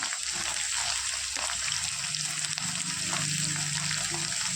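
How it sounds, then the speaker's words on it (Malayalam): Ginger and green chillies fry in hot oil for a mango pickle, giving a steady close sizzle and crackle throughout, with faint stirring sounds underneath. "ഇഞ്ചി ചേർത്തെടുത്ത് ഒന്ന് ഈ എണ്ണയിലൊന്ന് വഴന്ന് വന്നതിന് ശേഷം ഞാൻ ഇതിലേക്ക് പച്ചമുളക് ചേർത്ത് കൊടുക്കുകയാണ്"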